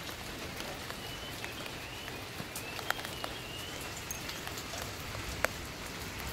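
Steady afternoon rain falls on a home garden of ixora flowers in the Mekong Delta, a soft, even hiss with scattered close drips and taps, no voices.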